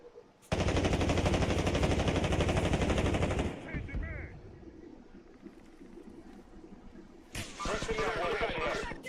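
Loud, sustained machine-gun fire in a video game battle, a long continuous burst that breaks off, a quieter gap of scattered sounds, then another close burst of rapid shots.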